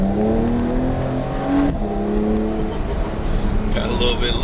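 A Porsche in sport mode accelerates hard, the engine rising in a loud, steady, close-up rev from inside the cabin while people talk over it.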